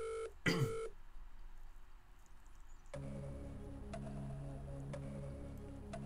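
Phone dialing tones in a Who Wants to Be a Millionaire video game: a short burst of electronic beeps, then steady ticking over tense background music.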